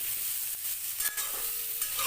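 Raw jackfruit pieces fry in a little oil with salt and turmeric, giving a steady soft sizzle with occasional stirring clinks close by, no voices.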